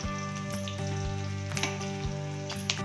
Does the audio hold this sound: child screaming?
no